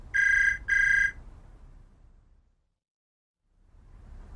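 A telephone rings twice in quick succession, bright electronic trills close and clear, followed by quiet room tone and near silence.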